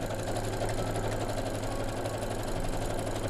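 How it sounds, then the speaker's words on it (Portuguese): Sewing machine stitching a fabric strip, a steady rapid mechanical whirring with a fine rhythmic clatter, close and continuous with no talk. "Voltei da máquina, costurei a primeira faixa"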